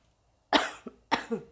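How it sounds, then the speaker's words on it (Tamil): Two sharp coughs, close and fairly loud, each followed by a short rasping catch, after a moment of silence. "சாரி, இருமல் வந்துட்டே இருக்குது."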